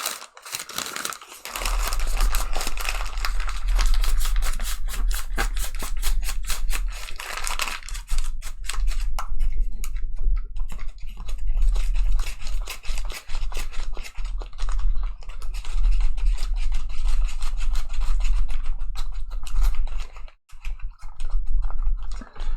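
Eraser rubbing across a math tutor's board, a long run of dense scratchy strokes with a steady low hum underneath, continuous and close, no talking.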